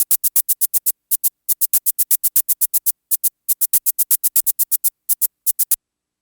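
Arturia DrumBrute drum machine playing its maracas voice with the corrected sound: a rapid run of about forty crisp, bright shaker hits in quick rhythmic groups with brief gaps, loud, close and dry, with no talk.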